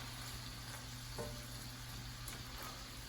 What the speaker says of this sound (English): We'll just let this saute up a little bit.